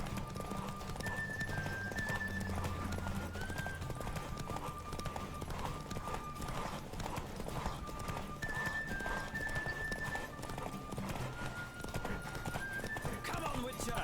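A horse gallops in a race in The Witcher 3 video game, with steady rapid hoofbeats and an occasional whinny under game music, while someone talks over it throughout.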